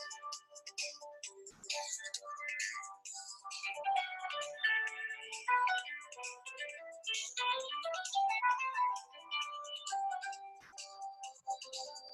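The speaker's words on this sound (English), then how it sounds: "sorry, my phone was ringing" Mobile phone ringtone plays a busy electronic melody of bright, rapidly changing tones that continues for several seconds, fairly clear with no speech over it.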